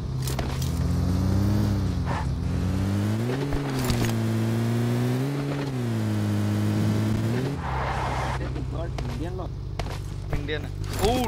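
A game vehicle's engine revs hard in repeated rising and falling surges, loud and close, then drops to a lower idle hum as faint voices speak underneath.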